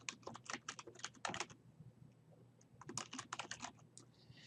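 Quick, light keystrokes on a computer keyboard come in two close bursts of rapid tapping separated by a short pause, soft and with no talk.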